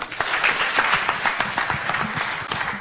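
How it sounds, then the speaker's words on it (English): A burst of steady applause from a conference audience at KICC in Nairobi, dense and continuous clapping for about three seconds. "Let's clap for him."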